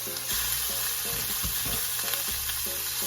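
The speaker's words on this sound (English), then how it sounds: "So I'm gonna add the cabbage to fry it" Cabbage and onions fry in a hot pan with a steady, close sizzle and crackle, broken by a few scraping stirs and no talking.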